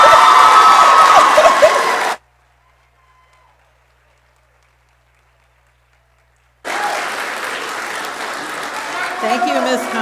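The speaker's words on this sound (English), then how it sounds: "A round of applause." At a practical nursing graduation ceremony, a large crowd bursts into loud applause and cheering with whoops. The sound cuts to silence for several seconds, then the clapping and cheering return just as strongly.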